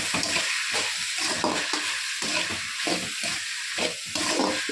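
Chopped bell peppers, three of them, sizzle and crackle in a hot pan for macaroni pasta, a steady loud frying hiss broken by repeated stirring scrapes with no voices.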